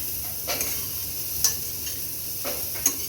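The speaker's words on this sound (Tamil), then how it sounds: "மீடியம் ஃப்ளேமில் வச்சு இதை நல்லா டாஸ் பண்ணி விட்டுக்கிட்டே ஃப்ரை பண்ணலாம்" Broccoli stir-frying in a pan over a medium flame, tossed now and then: a low steady sizzle with a few sharp scraping tosses at intervals, close and alone with no voices.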